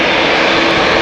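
A KLM Boeing 787-9 Dreamliner at Amsterdam Schiphol roars with a loud, steady, broadband jet-engine rush, close and continuous, with no voices.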